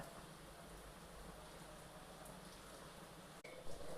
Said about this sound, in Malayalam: കഞ്ഞി നന്നായിട്ട് തിളയ്ക്കാൻ തുടങ്ങിയിട്ടുണ്ട്